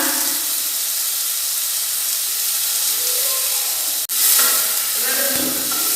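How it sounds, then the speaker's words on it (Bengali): Onions frying lightly in a pan for a Bengali breakfast dish, giving a steady loud hiss and sizzle that runs unbroken, with one brief sharp clack partway through. "একটু হালকা করে ভেজে নেব পেঁয়াজটা"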